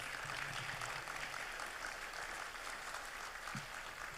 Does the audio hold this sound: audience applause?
yes